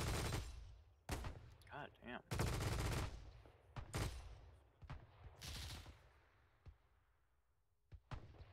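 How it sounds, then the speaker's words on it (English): Machine gun fire in Arma 3 during a World War II combined-arms operation: loud bursts and single shots crack at irregular intervals with echoing tails, while players shout in between. "that fucking machine gunner just ripped through us."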